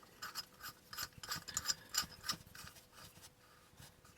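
A bolt-in hose outlet with a barbed outlet and threaded plate being tightened, giving a series of quiet rasping, scraping turns in short irregular bursts, close and faint with no talk.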